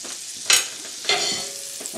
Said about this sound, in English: All you're doing is really searing it, so you're locking in all the natural flavors of the chicken.